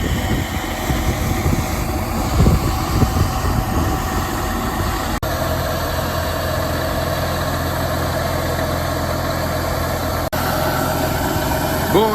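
A Gaspardo seed drill's blower turbine, driven by a tractor, whirs steadily and loudly for the whole stretch, with a constant low engine rumble beneath and no pauses.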